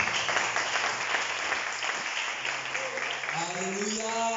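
A church congregation applauds together in a steady clatter of many hands while a voice speaks and a musical tone swells toward the end.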